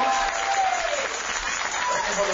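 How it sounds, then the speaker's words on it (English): Congregation applause at a Baptist church service, a dense steady wash of clapping filling the room throughout, with faint voices and a brief sustained tone underneath. "Let's give them all a round of applause."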